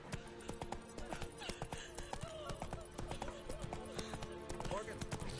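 Roach, Geralt's horse in The Witcher 3, gallops with a quick, steady clatter of hooves running on under background music and a speaking voice.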